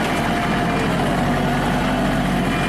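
A Kubota tractor engine runs while driving, a loud, steady close-up rumble with an even low throb and no breaks.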